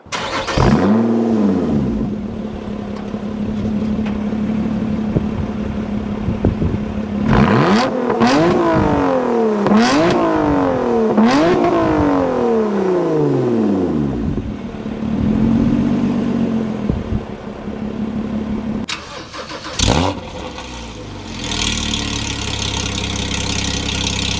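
A Lotus Evora GT sports car engine idles, then revs repeatedly in rising and falling sweeps while driving, loud and close, settling back to a steady drone between bursts.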